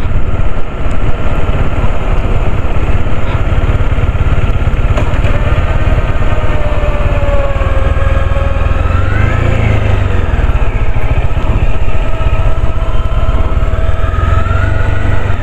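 A motorcycle engine runs steadily nearby on a remote road, a constant loud drone with slight pitch shifts as it idles and revs.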